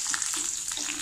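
Onions added to a pan of hot oil with dried red chilies, curry leaves and slit green chilies for a South Indian tomato gravy, giving a steady, close, crackling sizzle.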